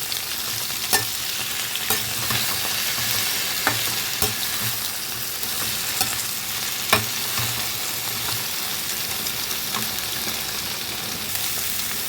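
Chopped cauliflower stems and other vegetables frying in hot oil give a loud, continuous sizzle, broken by intermittent clacks and scrapes as they are stirred in the pan, close up and without voices.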